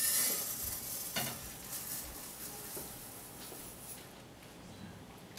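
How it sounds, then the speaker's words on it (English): Rice dry roasting in a pan, a soft steady sizzle with faint scraping stirs, low and close with no talk. "rice and we're going to dry roast it"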